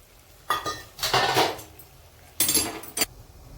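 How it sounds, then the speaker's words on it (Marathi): A steel plate used as a lid clatters as it is lifted off a pot of boiling water, with a few bright metallic clanks and scrapes in separate bursts, close and fairly loud, with no talking. "आपण आता ताट काढू उकळी आलेली"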